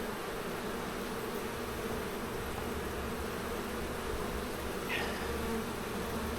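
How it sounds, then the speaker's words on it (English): Honeybees buzz continuously during a summer hive inspection, a dense, steady drone close by that holds at an even level throughout with no talking. "I love that buzz you get on your hands, you know, when you've got a handful of bees"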